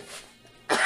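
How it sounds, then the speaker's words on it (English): A single sharp, loud cough bursts out near the end, after a stretch of quiet kitchen ambience with a softer breathy sound at the start, while pretzel dogs are being made from scratch. "Cough!"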